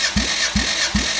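A 2004 Toyota RAV4's 2.0-litre 1AZ-FE engine cranks on the starter during a compression test of the first cylinder, giving three loud, evenly spaced pulses up close.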